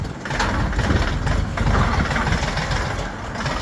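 A small three-cylinder mini tractor engine drones steadily and close by, a continuous low rumble with slight surges in intensity and no voices over it.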